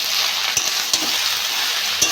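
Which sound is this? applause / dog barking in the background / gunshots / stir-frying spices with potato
stir-frying spices with potato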